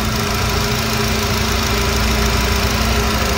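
A 2015 Nissan Sunny with a 1.5-litre engine and manual gearbox idles steadily and loudly up close, a constant mechanical hum with no speech over it.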